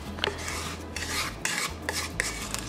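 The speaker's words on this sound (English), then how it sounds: "just scrape down the sides of everything" A spatula scrapes around the sides of a bowl of gluten-free brownie batter, giving several rasping strokes at a steady pace over a low background hum, with no talking.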